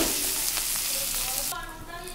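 Round-sliced onions and fish masala paste frying in oil in a pan for a Bengali fish dish, with a continuous close sizzle that drops quieter partway through, no talking.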